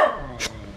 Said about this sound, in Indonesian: Kalau udah kenal nggak bakal menggonggong.